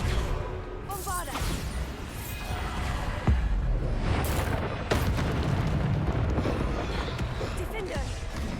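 Bombarda explosion spells from Hogwarts Legacy burst repeatedly amid chaotic combat, with loud booms and crackling impacts layered under a voice talking throughout.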